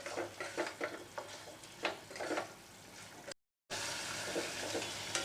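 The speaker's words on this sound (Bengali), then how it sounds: "এবার আমি পটলগুলোকে দিয়ে দেব, দিয়ে ভালো করে মিশিয়ে নেব।" Pieces of pointed gourd are stirred into a poppy-seed and mustard paste frying in a pan. There is a steady sizzle with scraping stir strokes, a brief cut to silence, then the sizzle resumes, louder and more even.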